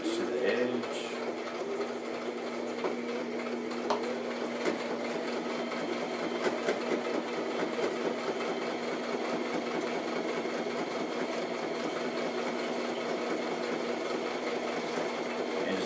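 Sewing machine back-stitching a handmade pocketbook, running steadily with a continuous whirring hum and rapid needle rattle, close and moderately loud, with no talking over it.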